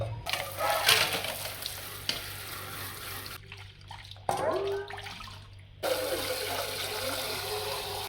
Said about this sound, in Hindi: अभी धो लिया है बर्तन